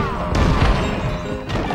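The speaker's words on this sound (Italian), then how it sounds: "L'albero è stato distrutto dal cannone." A cannon blast smashing a tree in the PS2 game Shrek the Third, a loud heavy crash with thudding impacts and debris over a game soundtrack, followed by a second sharper hit near the end.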